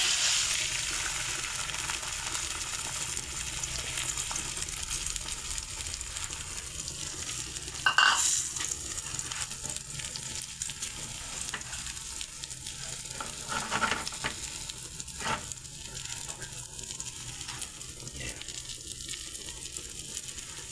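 Eggs frying in a pan give a continuous soft sizzle throughout, with a brief louder crackle near the middle and a few faint clinks, no voices.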